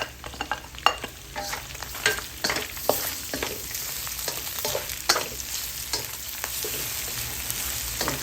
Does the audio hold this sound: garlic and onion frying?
yes